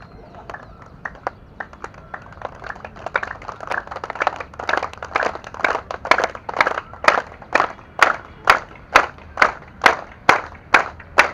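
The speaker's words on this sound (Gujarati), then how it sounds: "પૂરા જોશથી તાળી પાડવાની હોય છે" Aerobics group at Lake Garden, Katargam, Surat, clapping hands forcefully in unison, starting as scattered claps and building into a steady, loud rhythmic series of sharp claps, close by, with no talking.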